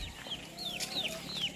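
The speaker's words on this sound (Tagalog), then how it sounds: "yan yung mga native chicken" Native chickens cluck in a farm pen, with several short, rising calls repeating at close range over a steady background murmur of other fowl.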